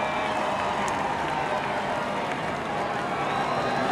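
A boisterous crowd cheers at Martinsville after a NASCAR Sprint Cup race win, a dense, steady roar of voices and clapping filling the whole stretch without letup.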